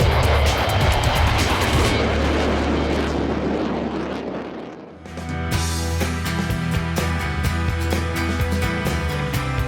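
RSAF aircraft engine running: a loud, steady roar with a deep low rumble, dipping briefly midway, then settling into an even high-pitched whine with tonal hum. No voices.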